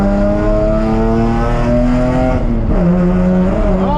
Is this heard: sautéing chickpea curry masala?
no